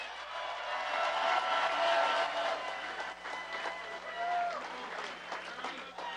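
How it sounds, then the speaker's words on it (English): Crowd at the Pittsburgh Penguins Stanley Cup victory parade clapping and cheering for the players, a loud, sustained wash of applause with voices mixed in throughout. "Let's give them a round of applause."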